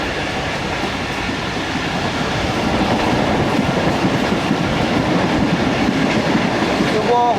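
Musa Pak Express passenger train running at night between Lahore and Multan, a steady loud rumble of wheels and carriages with rhythmic clatter throughout, heard from inside the train.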